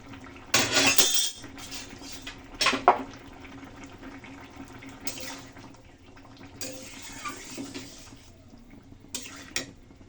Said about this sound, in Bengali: ঢাকনা খুলে নিচ্ছি।